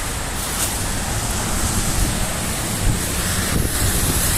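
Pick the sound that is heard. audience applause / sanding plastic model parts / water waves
water waves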